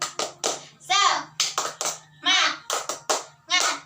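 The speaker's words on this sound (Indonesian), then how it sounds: "Untuk menambah semangat kita tepuk semangat dulu ya anak-anak." Children in a classroom doing a rhythmic 'tepuk semangat' clapping chant, crisp bursts of claps in patterned groups alternating with loud shouted chanted words in unison, close and lively.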